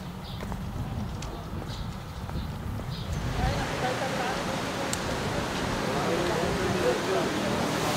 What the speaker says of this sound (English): So one last thing for today are these waterfalls.